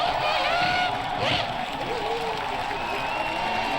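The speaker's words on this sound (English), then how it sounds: "Crowd roared their approval of Ralf Schumacher's victory." Spectators at the 2001 European Formula 1 Grand Prix roar and cheer for Ralf Schumacher's win, a steady wash of loud crowd noise with faint whoops rising above it throughout.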